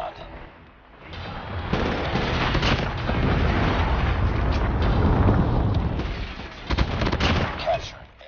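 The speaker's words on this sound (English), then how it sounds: "Friendly Predator missile inbound" Predator missile strike in the mobile shooter Call of Duty Mobile, a long loud rumbling blast with crackling debris that sustains for several seconds, then a few further sharp bangs near the end.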